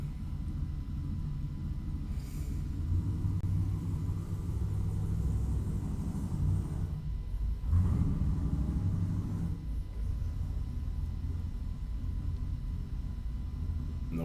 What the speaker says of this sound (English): Don't y'all wish y'all had a neighbor that cranked up his race cars every morning, let him rumble?